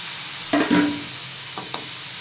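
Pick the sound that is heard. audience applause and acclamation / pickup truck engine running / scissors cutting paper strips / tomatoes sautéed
tomatoes sautéed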